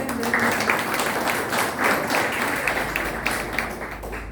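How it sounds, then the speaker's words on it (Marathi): Audience applause at a felicitation event honouring an author, a steady wash of many hands clapping together, fairly close and sustained throughout without any voices. "तर सगळ्यांनी एकदा जोरदार टाळ्या."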